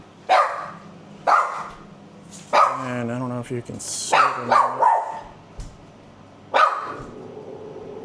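A big dog barks in short sharp bursts, roughly five or six spaced barks over several seconds inside a house, with a person talking in between and over them.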